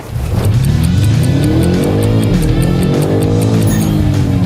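A BMW M5 launches hard from a standstill, its engine roaring loud and close as revs climb steadily through the gears with no pause in the sound.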